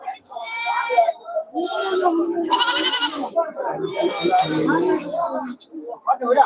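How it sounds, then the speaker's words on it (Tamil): Goats bleating repeatedly at a busy Ettayapuram goat and sheep market with Karnataka goats, several loud overlapping calls from close by over constant crowd chatter and people talking. "இதெல்லாம் கர்நாடகா ஆடுகள்"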